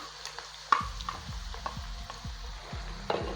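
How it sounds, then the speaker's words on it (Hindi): Onions hit hot oil in a pan and start sizzling, with a sharp burst at the start followed by steady frying crackle and repeated scraping stirs at an even rhythm, close and clear with no voices. "ऑयल गर्म हो चुका है, अब हम लोग ऐड कर देंगे प्याज।"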